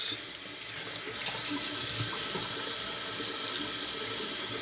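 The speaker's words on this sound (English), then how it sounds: "Cold water rinse." A bathroom tap runs steadily into a sink for a cold-water rinse after shaving. The water makes a continuous close hiss and splash throughout, faint overall, with no talking.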